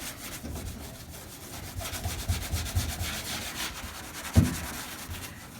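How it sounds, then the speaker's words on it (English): A scouring pad scrubs old, peeling car clear coat in repeated close, gritty rubbing strokes that swell in the middle, ending with a sharp knock. "I'm using that scouring pad again."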